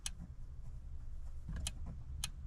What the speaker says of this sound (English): listen for the click.